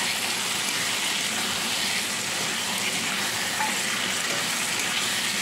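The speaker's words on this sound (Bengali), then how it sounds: "ভেজে রাখা বেগুনগুলো এবার দিয়ে দিলাম। বেগুনগুলো দিচ্ছি ভালো করে কষিয়ে নিই।" Pre-fried eggplant frying in spice paste for doi begun, a steady dense sizzle with light stirring, close and continuous, no voices.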